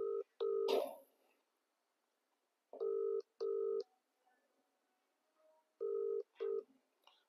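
A telephone call is being placed, with paired electronic ringing tones sounding three times at even intervals, clear and alone with no talking.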